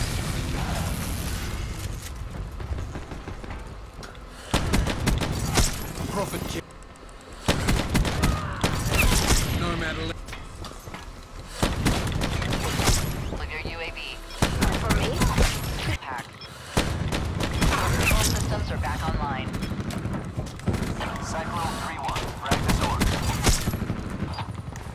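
Rapid bursts of automatic gunfire from a Call of Duty match, loud and close, coming in repeated volleys with short gaps between them, mixed with game effects and occasional voice chatter.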